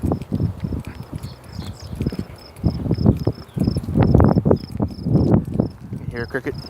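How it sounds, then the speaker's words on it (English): A cricket chirps outdoors at night in steady, evenly spaced high pulses throughout, with rustling footsteps and muffled activity below it. "You hear a cricket?"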